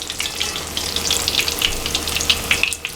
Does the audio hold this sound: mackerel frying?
yes